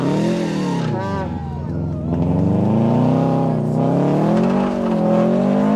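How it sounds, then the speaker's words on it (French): A Subaru production-class rally car runs a snowy stage at the Rallye Perce-Neige 2022 in Quebec. Its engine is loud and close, revving up and down in sweeping surges as it accelerates and shifts. "La combinaison vitesse élevée et faible traction rattrape également Curtis Antoine et Bruce Leonard dans leur Subaru de classe production"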